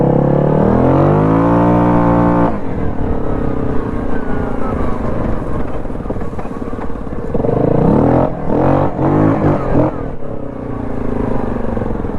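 A modified Yamaha Grizzly 700 ATV with a hot cam, ported head and aftermarket clutch revs hard to high RPM, its loud engine note climbing, holding and dropping, then surging again at close range.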